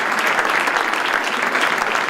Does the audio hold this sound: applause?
yes